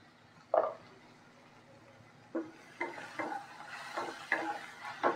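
Onion and vegetables for a Bengali kumro shaag torkari being fried with salt and turmeric, with a faint sizzle and sporadic spatula scrapes and taps against the pan that grow busier toward the end.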